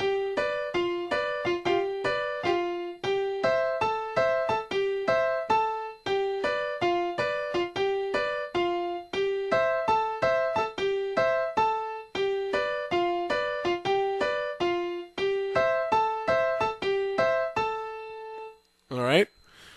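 Merengue piano right-hand part accenting octave root notes, a bright, steady, rhythmic pattern of repeated chords played alone and up close for the whole stretch, ending with a brief sliding flourish.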